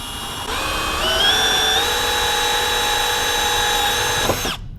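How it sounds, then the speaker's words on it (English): A Milwaukee Hole Dozer hole saw cuts a 1 1/8 inch hole while a light kit is fitted to a Club Car Tempo golf cart. The steady, close drill whine rises slightly in pitch and cuts off abruptly. "we're going to use our Milwaukee hole dozer."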